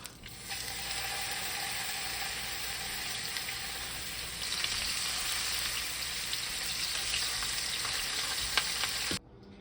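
Rohu fish pieces sizzling and crackling in hot oil for a masala curry, a steady dense frying hiss that holds for most of the stretch before cutting off abruptly near the end, with no talking.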